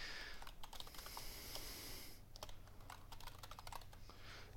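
Typing of remote access credentials on a computer keyboard on Windows 10, rapid runs of sharp key clicks over a steady background hum, close with no talk.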